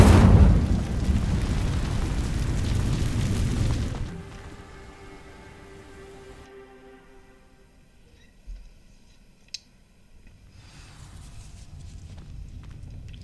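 A fire spell is cast in Hogwarts Legacy, bursting out as a loud roaring, crackling whoosh for about four seconds before collapsing into a quiet, dark ambient hum with a few faint distant clicks and a soft swell near the end.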